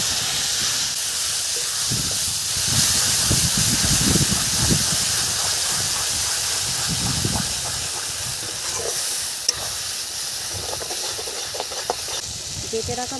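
Ground bean leaf paste hitting hot oil with dried chilli and cumin, giving a continuous loud frying hiss that stays steady and eases slightly toward the end, with a voice speaking over it.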